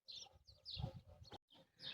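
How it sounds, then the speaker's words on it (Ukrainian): Small birds sing outdoors in a garden, with several quiet chirping calls and trills in short bursts separated by brief gaps. "Пташки співають красиво"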